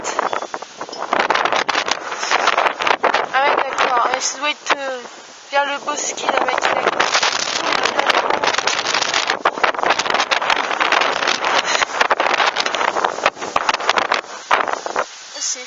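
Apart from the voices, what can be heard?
strong wind gusts during storm Hans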